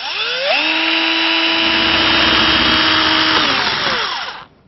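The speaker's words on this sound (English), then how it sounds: "drill away then." A power drill whines up to a steady high pitch and bores into a wooden double-hung window sash for several seconds, then spins down and stops.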